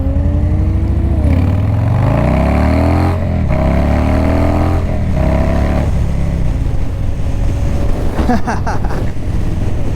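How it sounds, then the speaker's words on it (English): A car engine rises through the revs in repeated pulls with gear changes, loud and close, while driving out to a bike night with wind rushing over the microphone. "Just giving it that wide ass open throttle, dude."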